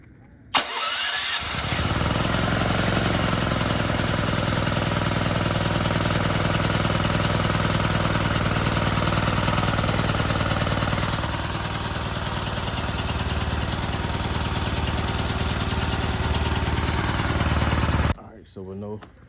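A portable generator with auto start, set on choke with its breaker on, cranks and catches, then runs steadily at a loud, even engine drone for about sixteen seconds before shutting off abruptly.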